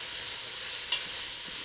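Tomato paste caramelizing in oil is stirred in a pot, a steady hissing sizzle with a faint scrape of the spoon, continuous and close.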